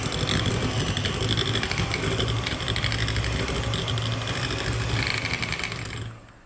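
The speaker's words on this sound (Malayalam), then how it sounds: "അതിനായിട്ട് ഈ എടുത്ത് വെച്ചിട്ടുള്ള ബട്ടർ നമുക്കൊന്ന് ബീറ്റ് ചെയ്തെടുക്കാം. സ്ലോ സ്പീഡിൽ ആദ്യം ഒന്ന് സ്റ്റാർട്ട് ചെയ്യാം." Steady whirring hum of an electric hand mixer at slow speed beating butter for a homemade vanilla sponge cake, continuous and close for most of the stretch, fading out at the very end.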